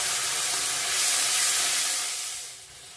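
Tomato and onion spice paste sizzling loudly as it goes into a hot pan with ginger, a steady broad hiss that swells midway and then fades toward the end, with no talking.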